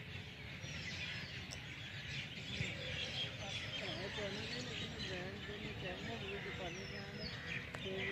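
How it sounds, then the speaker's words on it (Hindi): Birds sing and chirp at dusk in a park at a race course, a steady chorus of calls near and far with voices talking and crowd noise throughout. "सुनिए ज़रा कि परिंदों की किस कदर खूबसूरत आवाज़ें हैं"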